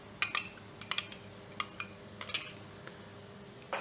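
A metal spoon scrapes and clinks against a pot while stirring tomato paste into meat sauce, giving scattered, quiet, irregular taps close by.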